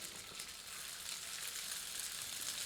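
Chicken koftas frying in hot oil in a pan, a steady, fairly quiet sizzle with fine crackle throughout and no voices.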